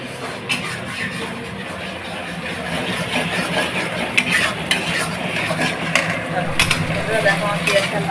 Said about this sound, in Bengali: দেখো আমার পেঁয়াজটা লাল করে ভাজা হয়ে গিয়েছে।